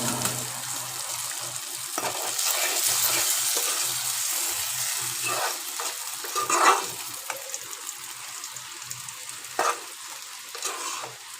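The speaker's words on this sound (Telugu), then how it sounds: "ఇప్పుడు టమాటా కూరలో కలుపుకోవటం" Red-fried prawns stirred into a half-cooked tomato curry, a moderate bubbling sizzle with intermittent spoon scrapes and clinks against the pot, close by and without talking.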